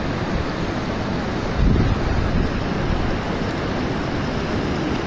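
A flash flood surges down a stream bed as a steady, loud roar of churning water, buffeted by wind noise on the microphone, with a brief heavier rush partway through and no one speaking.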